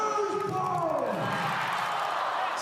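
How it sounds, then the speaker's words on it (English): An arena crowd cheering at a Tasmania JackJumpers NBL basketball game at the Silverdome in Launceston, a broad roar of fans rising and holding steady beneath a commentator talking. "here the Jack Jumper crowd getting up and about now"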